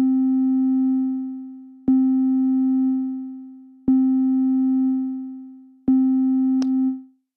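A steady sine-like synth tone from a VCV Rack modular patch, with each new note attack striking in about every two seconds before the last one fades, so the envelopes overlap, then a brief high chirp and a final release.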